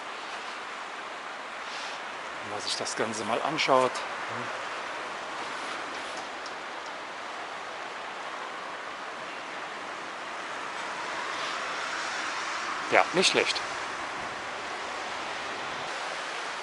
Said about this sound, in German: Also das sind schon gewaltige Mengen Wasser hier in der Blies.